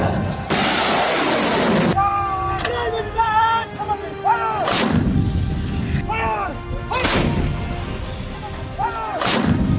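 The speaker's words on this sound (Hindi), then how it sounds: "पिनाका रॉकेट लॉन्चर और तोप से गोले भले ही युद्धाभ्यास के दौरान दागे जा रहे हैं" Pinaka rocket launchers and howitzers fire during a desert military exercise: a long roaring blast opens, followed by several sharp loud reports spaced a couple of seconds apart, each trailing off into echo, with faint voices between.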